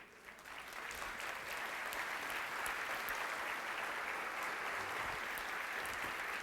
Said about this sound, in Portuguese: Você pode aplaudir mais forte ao Senhor?